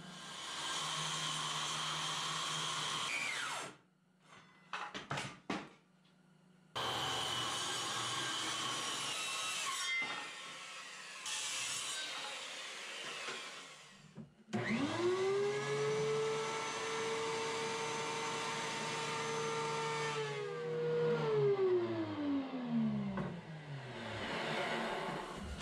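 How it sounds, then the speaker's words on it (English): Thickness planer running loud and close while walnut boards for a four-layer bowl are fed through, a steady broadband machine roar with pauses between passes and a motor that winds down toward the end. "I need to get it through a thickness planer so the glue up will have good contact."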